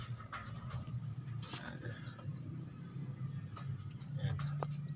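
White pigeons coo in a low, steady rolling murmur close by, with scattered small chirps and a voice talking over them.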